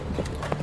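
Enemy horses' hooves clip-clop in the Tales of Glory battle game, a quick run of close, muffled hoofbeats over a low background rumble.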